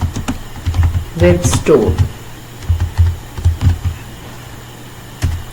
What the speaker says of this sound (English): Here you can type Google Chrome